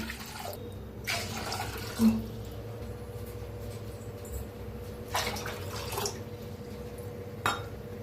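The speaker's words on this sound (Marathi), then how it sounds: "पाणी वतूया, 3 वाट्या पाणी घ्यायचंय आपल्याला" Water is poured from a bowl into sifted rice flour for papdi, brief splashing bursts separated by quiet pauses and a few faint clinks.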